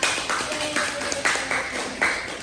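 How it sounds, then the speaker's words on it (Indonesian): Students in a classroom clap briefly for a classmate, a scattered burst of hand claps repeating in a few quick waves at moderate distance. "Ya, Sevina boleh dulu tepuk tangan untuk Sevina."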